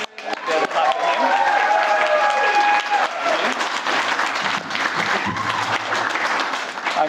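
Wedding guests applaud together in a sustained burst of clapping across a room, fairly loud, with some voices and cheering mixed in.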